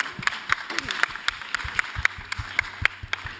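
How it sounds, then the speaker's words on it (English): Audience applause at the F1 in Schools World Finals 2023 knock-out competition, a steady wash of clapping with sharp individual claps standing out, under faint background talk. "one big applause for Körber"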